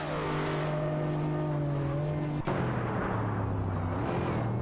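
Video game racing cars, a Bugatti Veyron and a Hennessy Venom F5, drone with steady high-revving engine tones, with a sharp pitch shift midway as one passes or shifts gear.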